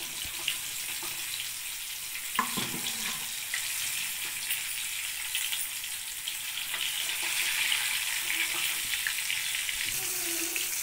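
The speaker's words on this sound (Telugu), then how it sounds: "ఇలా మనకు గోల్డ్ కలర్ వచ్చే వరకు ఇటు సైడు తిరిగేసుకుంటూ మనము బాగా వేయించుకోవాలి." Chapala fish pakodi sizzle in hot oil with a soft, continuous hiss and crackle, steady and fairly faint, with a few light clinks of a utensil turning the pieces.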